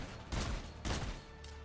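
Gunfire in the video game Fortnite comes as two quick loud bursts of shots about half a second apart, fading into a soft tail.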